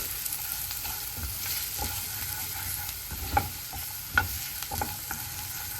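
Pasta sauce with milk and capsicum stirred in a pan, gentle simmering sizzle broken by distinct spoon clacks and scrapes against the pan, close and moderately quiet.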